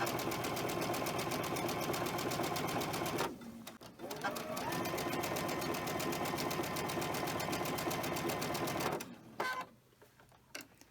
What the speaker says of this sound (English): here I am sewing away